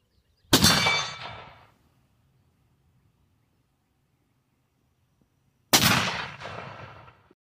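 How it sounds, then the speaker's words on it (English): Two loud, close rifle shots from a Remington 700 bolt-action chambered in .270 Winchester, about five seconds apart, each a sharp crack followed by a long outdoor echo that trails off into quiet. "Here's gonna break out the old 270 and take a shot."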